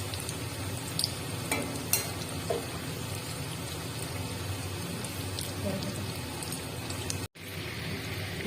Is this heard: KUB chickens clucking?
no